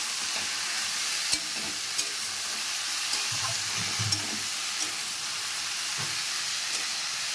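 Spices with green chilli, cumin powder and coriander powder frying in a pan for an arum-stem and prawn dish, a steady soft sizzle with occasional stirring clinks throughout.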